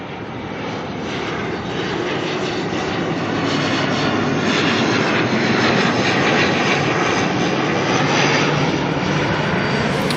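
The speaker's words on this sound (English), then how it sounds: "next to arrive, ATR coming in from New Plymouth, NZ5036" An ATR turboprop airliner arriving at Auckland Airport from New Plymouth, a loud, steady engine roar and propeller drone that swells as it nears, heard alone without talk.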